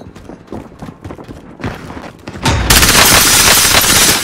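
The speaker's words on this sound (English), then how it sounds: "We're taking fire." Loud gunfire in the video game Call of Duty: Modern Warfare: scattered single shots, then a dense sustained burst of rapid automatic fire that fills the last couple of seconds, close and intense.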